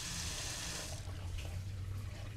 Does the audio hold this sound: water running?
yes